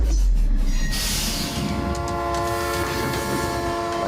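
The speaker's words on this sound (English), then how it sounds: "A train will be barreling down the tracks" A train barrels down the tracks with a loud, steady rumble of wheels on rail, a sustained horn-like tone running through it, heard alone and close throughout.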